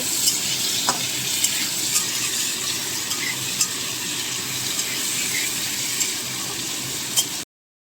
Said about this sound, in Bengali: আলুটার মধ্যে একটু নুন দিয়ে দেবো সামান্য, দিয়ে আলুটা ভালো করে ভেজে নেব।